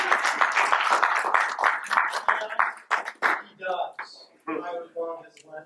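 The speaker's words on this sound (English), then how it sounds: "Give it a round of applause." An audience at a real estate investor gathering breaks into applause, a dense patter of clapping that thins out while voices speak over it and carry on afterward.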